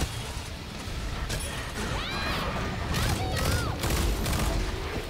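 Volleys of gunfire and crashing impacts fill a pirate video game battle, dense and continuous, with whistling tones and a voice speaking faintly beneath the noise.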